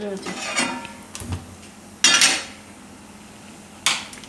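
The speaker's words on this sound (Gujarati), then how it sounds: "આ આપણે તવી લીધી ગેસ ચાલુ કરશું" A metal griddle (tawa) clanks onto a gas stove: a few sharp metallic knocks and scrapes, the loudest near the middle and another toward the end, close by in a quiet kitchen.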